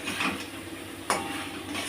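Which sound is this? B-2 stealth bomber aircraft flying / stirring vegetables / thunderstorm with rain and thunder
stirring vegetables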